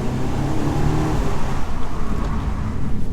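A 2017 Mercedes C200 Coupe AMG Line engine revs loudly and close, a deep sustained roar swelling and easing through repeated throttle blips, with no talk.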